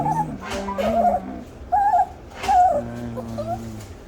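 A sick rescued stray dog, with a tumor spread to its lungs, whimpers and yips in short high-pitched bursts, close by, with brief pauses between the whines.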